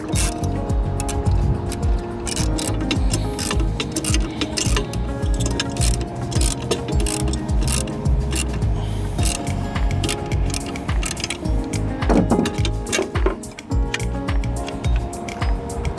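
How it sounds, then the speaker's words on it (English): Hand tools clatter and click while bracket bolts are snugged on an EZ Bed Box truck bed storage box, with busy, continuous metallic rattling, ratcheting and scraping close by throughout. "we're gonna come back with our tools and we're gonna snug these 3 up"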